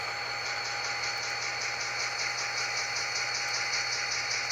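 An Atlas N scale Southern SD35 model locomotive runs smoothly at fifth speed step, giving a steady low electric motor hum with a faint rhythmic ticking pattern, close and quiet, with no voices.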